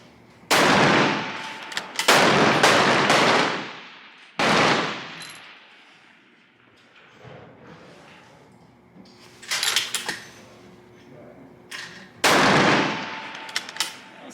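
Rifle shots ring out at a 600-yard winter league shooting match, several loud sharp cracks spaced seconds apart, each with a long rolling echo decaying across the range, with quieter gaps between.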